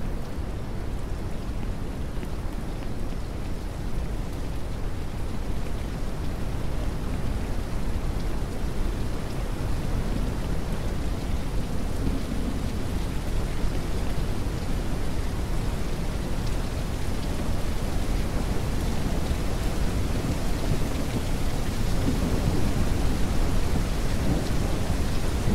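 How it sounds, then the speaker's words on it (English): Steady heavy rain and rolling thunder fill a storm in the farming video game Ranch Simulator. The dense, constant downpour carries low rumbles throughout, with no speech. "And it's starting to rain."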